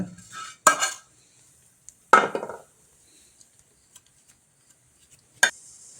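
A few sharp clatters and scrapes of fried vermicelli tipping into a bowl, in two short bursts with a light clink near the end, otherwise quiet.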